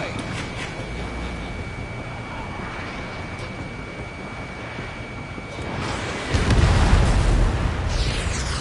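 Missile striking its target in a PS4 game: a long steady jet-engine roar gives way to a loud, deep rumbling blast near the end that lingers under continued engine noise.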